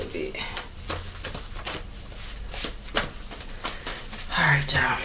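A deck of tarot or oracle cards being shuffled by hand, giving quick papery riffles and flicks in short uneven bursts, close and fairly quiet.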